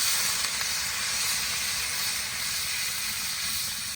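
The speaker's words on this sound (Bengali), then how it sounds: "আলু ভেজে নিয়েছি, এবার জল দিয়ে দেবো।" Steady loud hiss of steam as water hits fried potatoes in a hot pan, constant and close for several seconds before cutting off, no voices.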